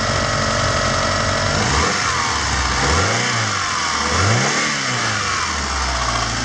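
A Mitsubishi Galant VR4 engine revs up and down in two or three swells over a steady idle, close by and fairly loud, with no talking.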